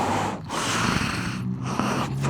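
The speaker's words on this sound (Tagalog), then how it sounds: "Hingal ako." Heavy, labored panting of a person out of breath, loud and close, with a few sharp breaths and snort-like exhales over a couple of seconds.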